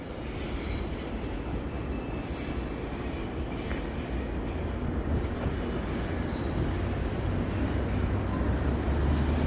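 A long GO commuter train rolls by in Toronto, continuous heavy rumble and rail roar that holds steady and grows slightly stronger toward the end, with some wind buffeting and no talk.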